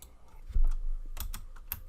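Keys tapped on a computer keyboard while writing text in Microsoft Word, a short run of several distinct clicks at close range with a soft thump among them and no talking.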